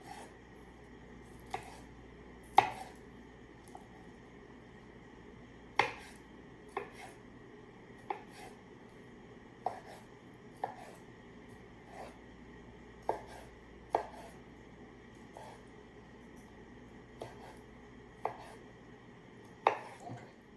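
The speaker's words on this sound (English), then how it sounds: "I'm just going to go ahead and cut them up a little bit smaller so they cook easier" Knife chopping shelled seafood on a board for ceviche, a series of sharp, irregular taps spaced about a second apart, close but fairly quiet with a soft background hum.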